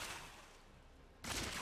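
Demon Hunter firing Elemental Arrow skulls in Diablo 3: a quiet whooshing game effect gives way to a sudden loud, broad burst of the shot near the end.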